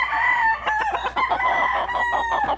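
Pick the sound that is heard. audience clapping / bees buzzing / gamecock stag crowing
gamecock stag crowing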